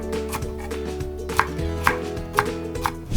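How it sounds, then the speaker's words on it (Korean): Green bell pepper sliced with a knife on a cutting board, steady knife taps landing at an even rhythm, close and fairly quiet over a low background hum. "이번에는 청피망을 썰어 주도록 하겠습니다."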